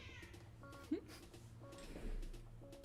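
A cat meows a few times nearby, short plaintive calls, with a person speaking softly in the background.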